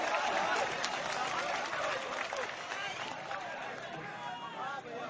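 Audience applause at a mushaira poetry gathering in Ahmedabad, a sustained wash of clapping and crowd noise from a large hall, fairly even in level and gradually easing, with murmuring voices blended in.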